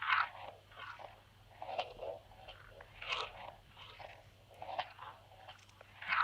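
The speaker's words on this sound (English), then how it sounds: "So it goes through 2 phase mistresses and it sounds like this." A percussion loop run through two Electro-Harmonix PhaseMistress phaser pedals gives crisp, crunchy hits in an irregular repeating rhythm, each strike carrying a swirling, sweeping tone, fairly quiet and with no voices.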